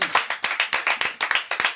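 Clapping on a comedy broadcast, roughly ten distinct, sharp hand claps close by in a quick, slightly uneven rhythm, like a few people or one person applauding.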